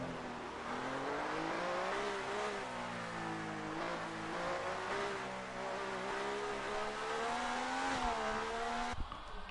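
Historical racing cars in a racing video game circuit a track set in Brazil, engines droning continuously with rising and falling pitch as they accelerate, loud and steady without any talk.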